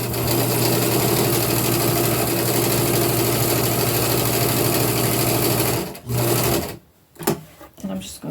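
A sewing machine stitches patchwork fabric with a loud, steady mechanical hum for about six seconds, then stops, followed by brief handling noises.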